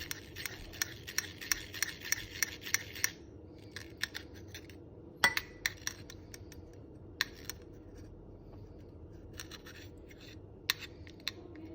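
A spoon mixes homemade lemonade in a container, making quiet, rapid clinks and scrapes in quick runs and scattered single taps.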